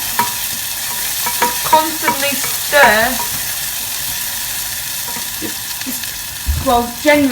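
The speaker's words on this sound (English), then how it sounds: "Just constantly stir." Prawn risotto stirred constantly in a pan, a loud continuous sizzle with repeated scraping strokes of the spoon, and a voice speaking briefly toward the end.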